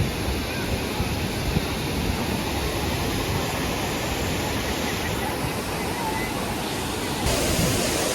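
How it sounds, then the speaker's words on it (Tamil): Waterfall at Kodiveri dam near Erode running in full flow, a loud, dense, continuous roar of falling water that stays steady throughout. "அருவி வேற லெவலில் தண்ணி இருக்குது"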